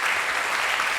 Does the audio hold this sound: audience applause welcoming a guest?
yes